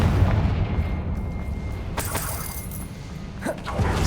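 A Confringo fire spell detonates in Hogwarts Legacy as a booming blast over steady game ambience, with a sharp burst near the midpoint and another strike toward the end.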